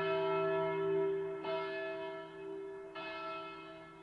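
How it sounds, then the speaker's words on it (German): A deep, resonant bell tolls in the Kingdom Hearts Birth By Sleep video game, with three strikes about a second and a half apart, each ringing on with a long sustained hum that overlaps the next, alone with no talking. "Glockenschläger."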